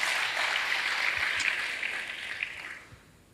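Church congregation applauding during an Indonesian sermon, a dense, steady wash of many hands clapping that fades out near the end, with no talking over it.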